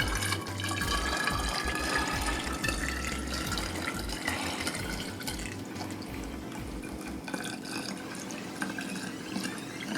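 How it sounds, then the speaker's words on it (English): Homemade keto orgeat almond syrup pours steadily from a measuring cup through a funnel into a bottle, a continuous close liquid trickle lasting about ten seconds with no talk. "Measuring cup, and we're gonna go ahead and pour that in."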